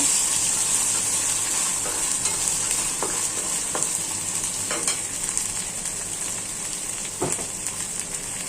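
Onion frying with ginger and garlic in oil, a loud steady sizzle with repeated stirring scrapes and spatula knocks close by.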